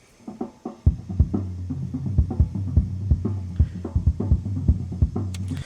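Deep, booming kick drum captured through a sub-kick microphone thumps in a quick, uneven rhythm with a resonant low hum sustaining between hits, alone and up close.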